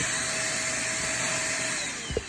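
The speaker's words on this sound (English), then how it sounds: "so basically, it's a vacuum cleaner. It does what it's supposed to do." A Shark Navigator vacuum cleaner runs at close range with a steady whining motor roar that eases slightly at the end, where there is a small bump.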